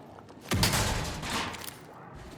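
A sudden loud burst of gunfire starts about halfway through a Marathon match, sustained rapid shots ringing out with a booming onset and then tailing off.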